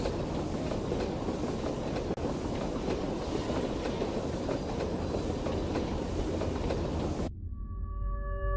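Train wheels rumble and clack steadily along rails in the video game Garten of Banban, a loud continuous run that cuts off abruptly near the end, leaving a faint tone.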